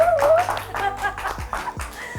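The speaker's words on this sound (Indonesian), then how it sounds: "Boleh tepuk tangan buat mereka berdua ini." An audience claps for two guests, a working couple, at a young entrepreneurs' talk; the claps are loose and scattered, fairly close, with voices talking over them.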